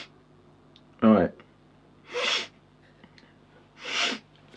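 Three sharp nasal intakes of snuff (Bernard Schnupftabak Amostrinha), each a short breathy snort spaced about a second apart, close and clear in a quiet room.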